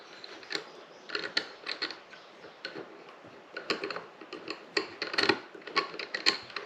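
A bolt on a Wild Badger 40V 4-in-1 weed wacker is turned by hand, giving close, soft ticking and rubbing clicks in an irregular rhythm, with quiet scraping between the small bursts and no talk.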